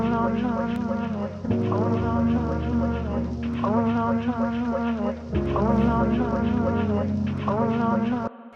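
A looping lo-fi house groove with a chopped vocal sample pitched up two semitones and the main sample pitched down six, repeating in bars over a warm bass-heavy bed, steady and mid-level.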